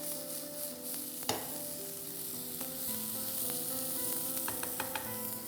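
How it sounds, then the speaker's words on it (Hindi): Finely chopped onions sizzle steadily in a hot pan for an Andhra-style mushroom dish, with occasional stirring scrapes and clinks over the constant frying hiss; no voices. "अब तुरंत इसमें प्याज डालते हैं, बारीक कटा हुआ"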